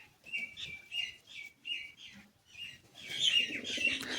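Several pigeons gathering at water to bathe give soft, quiet chirps and calls in short repeated bursts, followed by a denser flurry of bird sound and rustling toward the end.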